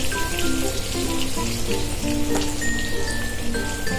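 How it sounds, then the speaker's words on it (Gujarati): Potato pieces for aloo chak sabji frying in hot oil, giving a steady, dense sizzle with fine crackling that stays loud and even throughout, with no talking. "હવે આપણે એને તેલમાં સોતળી લઈએ"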